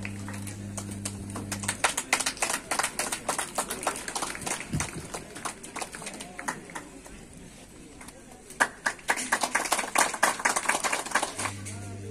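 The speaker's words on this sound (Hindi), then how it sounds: "कृपया इसके लिए भी जोरदार तालियां हो जाए, तालियों की गूंज कम नहीं होनी चाहिए" Applause from an audience at a university celebration, a crackling patter of clapping that thins in the middle and swells again, with a voice speaking over it at the start and end.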